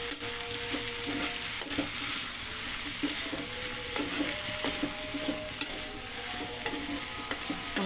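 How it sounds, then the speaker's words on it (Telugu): Eggplant pieces fry and sizzle in hot oil in a pan for a vankaya curry, with a steady close hiss broken by repeated scrapes and clinks as they are stirred. "వంకాయలు కూడా ఆయిల్లో బాగా మగ్గాలి"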